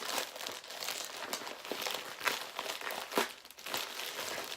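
A package wrapping crinkles and crackles in bursts as it is slowly opened by hand, close and fairly loud, with irregular sharper crunches and no talking.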